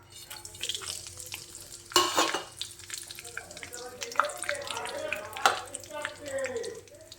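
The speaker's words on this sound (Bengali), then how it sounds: "এবার কড়াই দিয়ে দেব গোটা গরম মশলাটা" Whole garam masala dropped into hot oil in a kadai gives a sudden burst of crackling sizzle that settles into softer frying pops, close by, with a voice talking over part of it.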